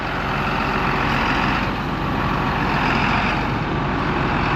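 A truck pulling a trailer backs down alongside a farm barn, a constant loud engine rumble with broadband noise throughout and no speech.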